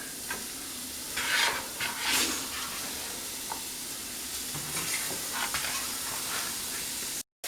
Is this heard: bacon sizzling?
yes